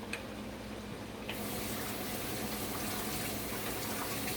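Water runs from a kitchen tap while sauce is rinsed off a hand, a quiet steady hiss that grows fuller after the flow opens up, with no talking.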